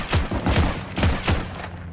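Gunfire in Heroes & Generals: four sharp, close shots in an even rhythm, each with a short echoing tail, loud and alone.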